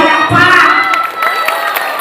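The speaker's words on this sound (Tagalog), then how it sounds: "Ay, naku yung masagyang palakpak!" Crowd at a barangay bingo game in Cabanatuan bursts into applause and cheering, a dense wash of clapping and shouts that swells early and carries steadily through about two seconds.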